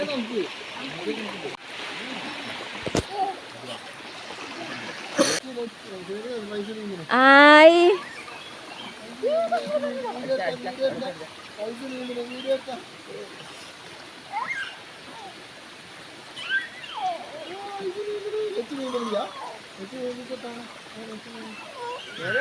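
Steady rushing water from the Kerala Kundu waterfall fills the background, a constant wash of falling water heard beneath people talking nearby.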